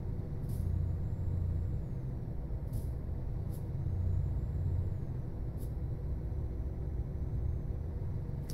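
Truck air brakes in Euro Truck Simulator 2 give several short, sharp hisses over a steady, rumbling engine and road drone, close and moderately loud.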